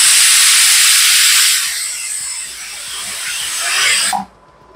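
Pressure cooker on an induction cooktop letting off steam with a loud, steady whistling hiss while mutton stew cooks, easing slightly before cutting off abruptly near the end.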